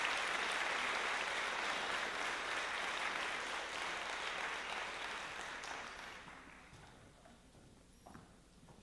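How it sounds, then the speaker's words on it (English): Audience at a Clovis High School band spring concert claps in a dense, steady round of applause that gradually thins and fades toward the end, with a few scattered claps lingering. "And one more round of applause,"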